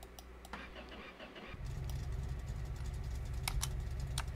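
A car engine cranks briefly, then catches and settles into a steady low idle that rumbles on, close up, after a few faint clicks and rattles and with no voices.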